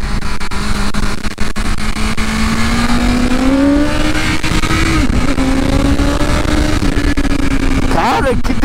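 A BMW S1000RR M Package superbike in race mode runs at full throttle at Interlagos, a loud, steady high engine tone rising and dipping through shifts, with wind rush and brief clicks.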